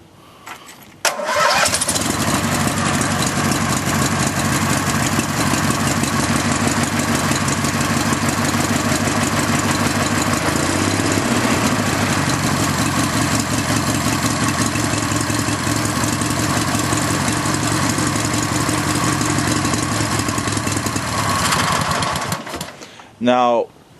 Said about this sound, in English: That motor sounds sweet.